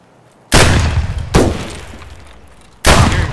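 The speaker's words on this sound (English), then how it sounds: "I hear him shooting." Three loud, close gunshots in a video game, each a sharp blast with a long decaying tail, the first two about a second apart and the third after a longer pause.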